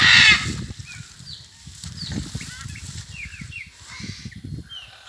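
Macaws calling in a group in the open, with several short harsh squawks and chirps scattered near and far over wing flaps and low rustling background noise.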